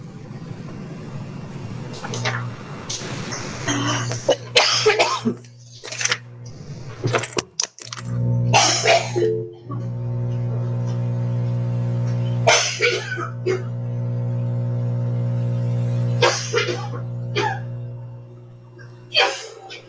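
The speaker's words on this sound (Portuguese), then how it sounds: "Minutinho para tossir, tá, gente?" A woman with flu coughs in several sharp, close bursts separated by pauses, over a steady low background hum, with no speech between the coughs.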